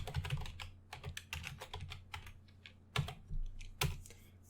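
Someone types on a computer keyboard, a close, crisp run of irregular key clicks with a few heavier strokes, alone, with no speech.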